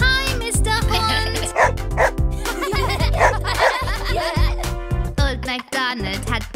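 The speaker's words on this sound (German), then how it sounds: "Schau, da ist ein richtig cooler Hund" A cartoon dog in an Old MacDonald children's song gives bouncy bow-wow barks over a lively musical backing, mixed with chuckles and laughter throughout.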